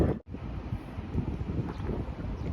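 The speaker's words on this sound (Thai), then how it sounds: "มีลม" Steady low wind rumble buffeting the microphone, starting with a brief dropout and then blowing on continuously.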